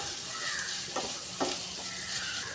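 Onions, ginger and garlic fry and stir in a pan for a Kerala toddy-shop beef fry, giving a steady close sizzle with a few soft scrapes of a spoon and no talk.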